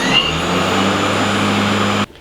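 An Ego battery-powered electric lawn mower runs with a steady low motor hum and whirring blade tone, fairly close and even, cutting off abruptly just before the end.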